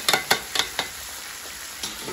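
Mutton karahi sizzling in a pan, a few sharp stirring clacks at the start, then a steady close frying hiss.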